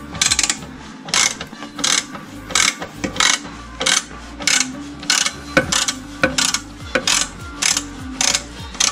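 A ratchet clicks in repeated bursts while loosening the exhaust clamp screw on a 2018 BMW S1000XR, each burst a close, crisp series of metallic clicks with short pauses between.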